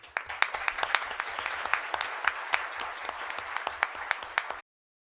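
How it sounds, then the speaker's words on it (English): A small audience claps at a school board meeting, with distinct individual claps in brisk, uneven rhythm for several seconds before the sound cuts off abruptly. "Please give them a round of applause."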